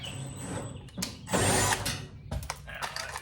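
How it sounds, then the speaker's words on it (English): A power driver sets a screw into the front corner of a car quarter panel during installation, giving a loud whirring burst in the middle between quieter mechanical clicks and rattles close by. "I'm going to put the screw here in the front."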